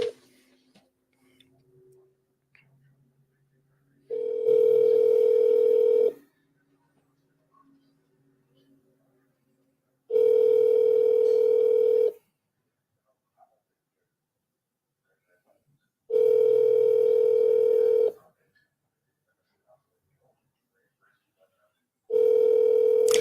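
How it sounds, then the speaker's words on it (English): Ringback tone of an outgoing phone call, four long steady rings evenly spaced about six seconds apart with near silence in between and faint background sounds. "See if she finally answers the phone today."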